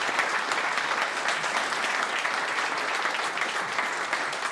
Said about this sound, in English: Round of applause for David and the Leisure Database.